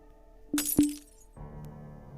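A glass cup shatters in a horror video game, two quick crashing hits close by, followed by a low steady hum.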